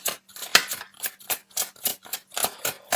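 Tarot cards being handled and drawn give crisp, rhythmic papery snaps and rustles, about a dozen in quick succession, close and clear with no talking.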